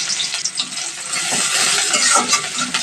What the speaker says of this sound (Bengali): এবার তেল দিয়ে দিব, পেঁয়াজ দিয়ে দিলাম